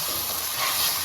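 Tomatoes added to golden onions in a pan for methi leaf dal give a continuous, even sizzle and hiss from hot frying, heard close with no voices.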